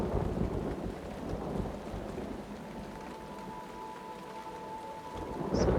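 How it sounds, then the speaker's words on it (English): Video game rain patters steadily throughout at a moderate level, with a low rumble of thunder underneath and a brief brighter burst near the end. "It's raining right now because the skies are dark and I hear kind of rain going on."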